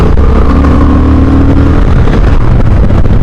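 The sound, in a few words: Honda Hornet CB 750 motorcycle engine, throttle closed and reopened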